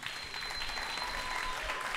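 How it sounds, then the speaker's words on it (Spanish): Audience applause fills a live music show at a jazz café, dense steady clapping sustained from start to finish with no pauses, moderately loud and close. "Fuerte aplauso para ellos."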